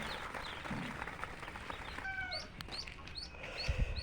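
Ducklings being given water give soft, high chirps and peeps over a faint background rustle, the chirping picking up toward the end.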